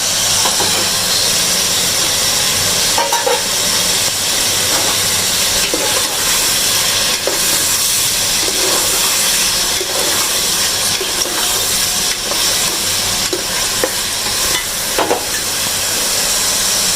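Chana dal boiling for a chicken and dal gosht dish gives off a loud, steady hiss of steam that holds unbroken throughout, with faint clinks beneath.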